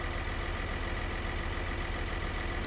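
A tractor engine in the video game Farming Simulator 2013 runs at a steady idle, a continuous low diesel drone with an even mechanical rumble and no pauses or voices.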